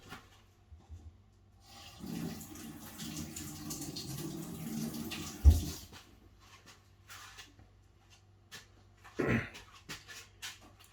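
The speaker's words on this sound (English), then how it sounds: "And now we'll just take off the widget here, the Nitrosurge, and rinse it out." Running water from a tap rinsing out a Guinness Nitrosurge widget, a faint steady splash for a few seconds with a brief clunk and a later short burst of water, recorded at low level.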